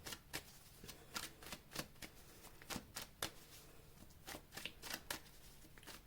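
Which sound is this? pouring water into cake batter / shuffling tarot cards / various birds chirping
shuffling tarot cards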